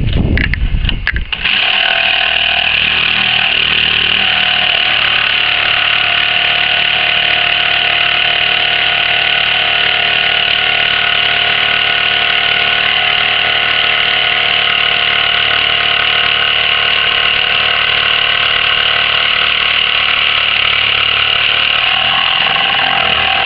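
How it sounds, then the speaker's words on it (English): A power tool cutting circles from wood, a jigsaw then a sander, runs loud and continuous with a steady motor whine close by, starting after a brief clatter. "With two circles now traced, I'll cut them out with the jigsaw. It's a rough shape, and then using a sander, I'll sand it down to the line."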